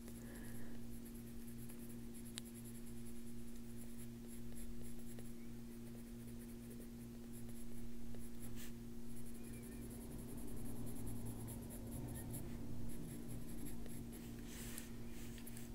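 Colored pencil lightly shading paper for a drawing of a figure's ear and hair: a faint, continuous scratchy rasp of strokes over a low steady hum, heard alone at close range.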